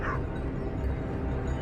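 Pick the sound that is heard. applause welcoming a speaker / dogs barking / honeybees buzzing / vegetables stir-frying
dogs barking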